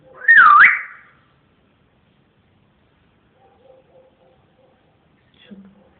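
A grey parrot gives a single bright, warbling whistle that rises and falls near the start, followed by quiet and a few faint, brief chirps and noises.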